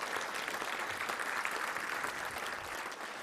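A luncheon audience at the Little Rock Touchdown Club applauds Mack Brown, a dense, steady roomful of clapping that holds evenly throughout at moderate distance.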